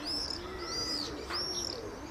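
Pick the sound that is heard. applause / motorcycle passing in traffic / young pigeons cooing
young pigeons cooing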